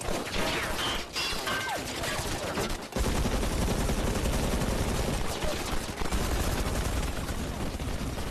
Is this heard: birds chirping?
no